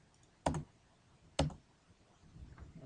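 A spacebar on a computer keyboard is pressed twice, about a second apart, each a crisp, close click in an otherwise quiet room.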